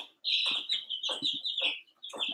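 Baby Easter Egger chicks, about two and a half weeks old, give a run of shrill, high peeps in quick bursts with short gaps, close by and clear.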